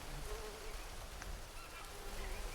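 A fly buzzing in the Green Hell jungle survival game, a faint steady drone over quiet rainforest ambience with soft animal calls in the background.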